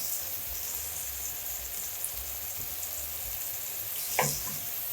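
Ground beef fries in a pan with a steady, moderate sizzle, and a single sharper scrape of a utensil near the end; no one talks.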